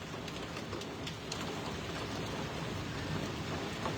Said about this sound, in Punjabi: ਮੀਂਹ ਨੇ ਪੂਰੇ ਗੜੇ ਗੜੇ ਪੈ ਰਹੇ ਨੇ